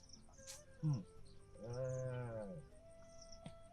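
A cow gives one long, low moo of about a second, mid-distance, amid faint insect chirping and a brief earlier animal call.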